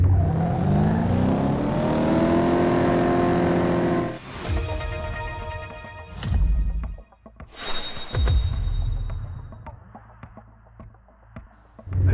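Racing car engine in a straight drag race in the Top Drives mobile game, a loud sustained rising rev for about four seconds, then gear-shift breaks and short bursts of engine and whoosh sounds that fade and come back.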